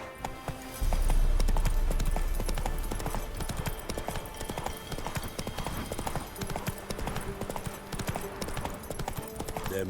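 Horse galloping in The Witcher 3 video game, rapid rhythmic hoofbeats thudding steadily over music and ambient battle noise, a brief voice shouting at the start.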